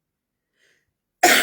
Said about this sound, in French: et je tousse.